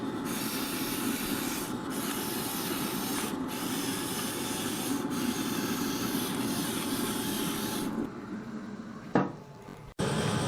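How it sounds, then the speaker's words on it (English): Black pepper is cracked in a grinder, a continuous gritty rasping that runs for about eight seconds, close and fairly quiet, followed by a few brief knocks and handling sounds. "And the last thing we'll do, cracked black pepper."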